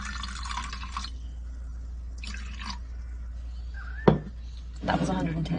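A sharp clink, then 100 grams of water pours briefly into a bowl of sourdough starter close by, over a low steady hum.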